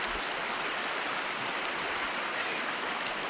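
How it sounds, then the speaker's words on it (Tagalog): A waterfall near Lupon, Davao Oriental, gives a steady, dense rush of falling water, an unbroken broadband roar that holds even and close throughout, with no voices. "Talon."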